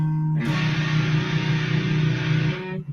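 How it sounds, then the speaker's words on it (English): A guitar or similar instrument played through a distortion effect pedal, sustaining one loud, dense, buzzing tone for about two and a half seconds before cutting off. "Yeah, that sounds with distortion."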